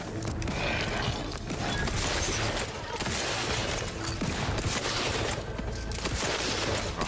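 Gunfire in The Outer Worlds 2 rattles on continuously amid dense game noise, with rapid overlapping shots and clattering mechanisms throughout.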